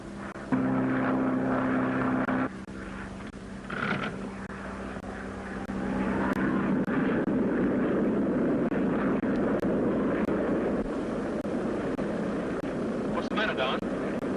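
Propeller airplane droning steadily as it flies through icing weather, its engine hum constant and fairly close, with brief bits of cockpit sound over it.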